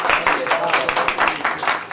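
Audience applause at a resident welfare association's senior citizens' program, a loud, dense burst of many hands clapping close by and sustained throughout, with no talk over it.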